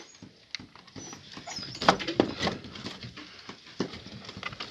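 Kangal puppies make small yips and whimpers close by, mixed with scrabbling and pattering movement, loudest in the middle.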